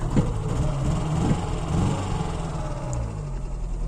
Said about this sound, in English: It is running like a 2 CV, you know, a bi-cylinder engine.